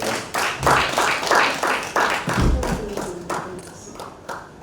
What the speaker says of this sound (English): Can we please give him another round of applause?